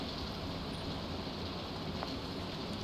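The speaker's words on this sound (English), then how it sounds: "I was just trying to take advantage of the Rain." Steady rain falls in the Stardew Valley farming game, a dense, even hiss of drops with no break or change, running alone without talk the whole way through.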